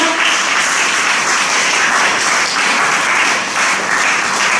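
Sustained applause from a church congregation during a sermon, many hands clapping in a dense, even roar that holds steady throughout at close range.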